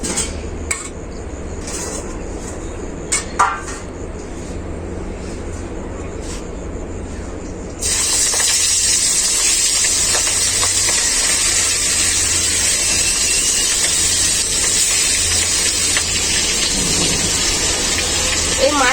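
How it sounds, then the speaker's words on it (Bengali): Prawns coated in spiced yogurt marinade drop into hot oil and set off a loud, constant sizzle that fills the second half, after a quieter stretch with a few utensil clinks and clatters. "তেলটাও গরম হয়ে গেছে খুব ভালো হবে এবারে মাছটা ভেজে নেব আমি"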